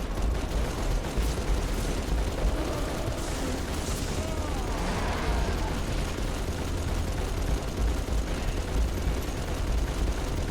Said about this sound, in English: I love the Halo 3 mounted turret.